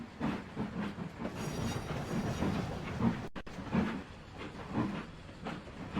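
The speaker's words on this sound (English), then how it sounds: "You'll hear some trains in the background" A simulated train in the Trainz railroad simulator rumbles along with rhythmic clickety-clack and a soft hiss, distant and low under a steady background.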